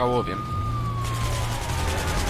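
A police car siren in the video game Hatred wails in a single long tone that slowly falls in pitch, loud and close over a low rumbling game backdrop.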